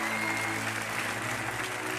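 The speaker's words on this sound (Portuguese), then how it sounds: "Dá uma salva de palmas para esse cara aí." A Brazilian Baptist church congregation gives a round of applause, a steady, even wash of moderate clapping with a low hum of the hall beneath it.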